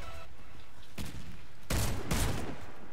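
Bursts of gunfire in the online shooter Warface, likely from a Fabarm S.A.T. 8 Pro Gold in the Hangar map: three loud, sharp blasts spaced roughly half a second apart over steady background game noise.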